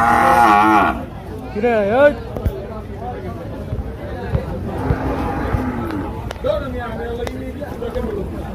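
A cow moos loudly up close at a crowded cattle market, then several more drawn-out lowing calls follow amid a murmur of background voices and crowd noise.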